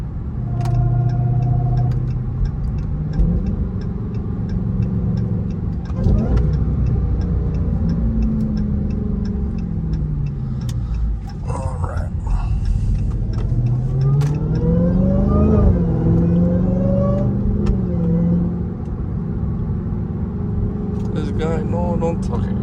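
A Dodge Hellcat drives in rush hour traffic with a loud supercharger whine that rises and falls as it accelerates and eases off, heard from inside the car under steady engine noise while people talk over it.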